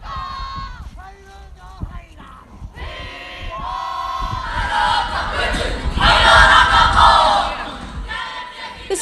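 The Wakatipu High School kapa haka group performs a haka at an outdoor ceremony: loud chanted shouts from many voices in unison, building in force and peaking in a roaring crescendo toward the end.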